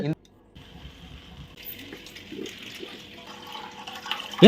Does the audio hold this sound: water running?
yes